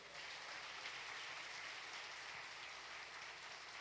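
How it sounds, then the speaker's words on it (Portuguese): A church congregation applauding, a steady wash of many hands clapping, moderately distant and fairly faint, continuing evenly without pause. "Você pode aplaudir o Senhor?"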